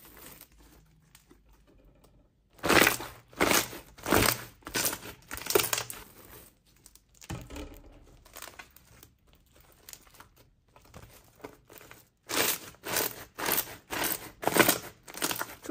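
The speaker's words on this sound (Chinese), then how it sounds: "很酥脆，很酥脆的声音听着非常解压" Crisp crunching and crinkling from a stress-relief toy squeezed in the hands, coming in rapid bursts of sharp crackles with quiet pauses between them, very close and without talk.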